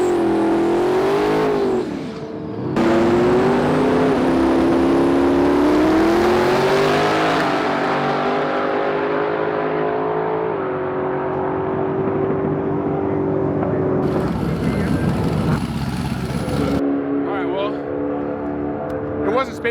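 A race car on a drag run at an LS Fest race day roars loud and close, its engine note climbing and holding through shifts with abrupt cuts and rough, crackling bursts.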